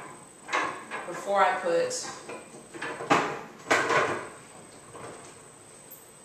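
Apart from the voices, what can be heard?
putting the lid on the Tower Garden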